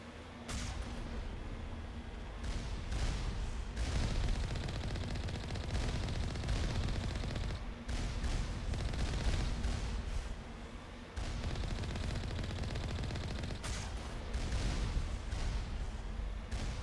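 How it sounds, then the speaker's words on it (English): Gunfire aimed at the player in Mass Effect: sustained, fairly faint bursts of rapid machine-gun and turret fire with heavy booming undertones, rolling on for many seconds with brief pauses. "Something's shooting at me."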